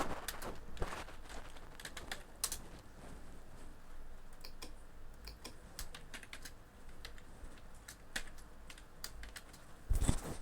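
Someone types on a computer keyboard while entering values into a database, producing quiet scattered key clicks in irregular bursts against a faint background hiss.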